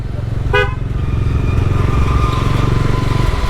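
A Bajaj Dominar D400 and a TVS Apache RR310 ride at night between Amritsar and Beas, their engines a loud, steady rumble close by, broken by one short horn toot near the start.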